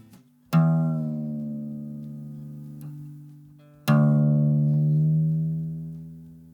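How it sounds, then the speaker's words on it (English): A guitar string is plucked twice and left ringing, each note sustaining and slowly fading, with faint creaks between plucks as a peg is turned. "When the pegs are turned or twisted, this means that the string is either loosened or tightened up."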